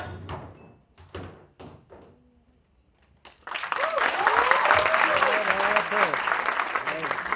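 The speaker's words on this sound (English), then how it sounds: "Please give him a huge round of applause for a fantastic performance." A college festival crowd breaks into loud applause and cheering after a performance, following a few isolated thumps and quieter sounds; the dense clapping with whistles and shouts starts suddenly and holds strong to the end.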